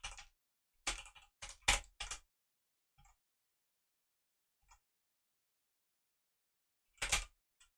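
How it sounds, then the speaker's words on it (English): Short bursts of typing on a computer keyboard, clustered rapid clicks in the first two seconds, a few isolated faint taps, then another quick burst near the end, close and quiet. "I cannot type this morning"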